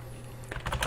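Quick keystrokes on a French computer keyboard, a few close, soft clicks in a brief burst at the end over a quiet room hum.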